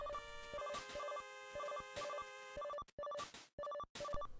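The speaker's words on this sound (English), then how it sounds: "The phone is ringing!" An 8-bit telephone ring in Mega Man 9: rapid alternating two-note beeps repeat in a steady pattern, then turn into choppy bursts with gaps, all loud and synthetic.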